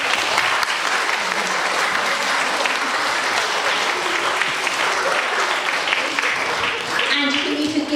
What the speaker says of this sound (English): So can you give your audience a big round of applause?